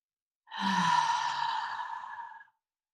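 A single deep breath during a guided breathing exercise, heard as one long, close, airy whoosh of about two seconds that fades gradually in quiet surroundings.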